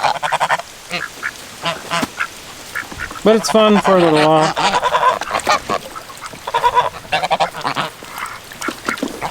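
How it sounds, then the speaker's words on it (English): Geese and ducks honk and quack around kiddie pools, a busy mix of loud nearby honks and rapid quacks, with a person talking between and over the calls. "The geese say, well, y'all having so much fun in here."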